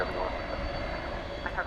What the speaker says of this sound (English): Nippon Cargo now making the turn onto runway 18 left